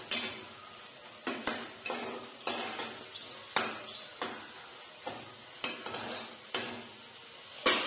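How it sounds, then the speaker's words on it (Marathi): Masala being sautéed in oil in a pan for paneer bhaji, with a soft sizzle under regular spatula scrapes and clinks against the pan, about one stroke every half second, close and fairly quiet. "चांगलं तेल सुटेपर्यंत परतून घ्यायचं."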